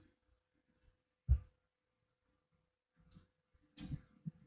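Mouse clicks in a quiet room while sending an email in Bitrix24, one sharp near click followed a few seconds later by a small cluster of softer clicks and taps.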